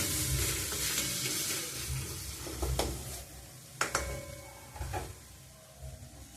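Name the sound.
stirring tomatoes into urad dal in a pan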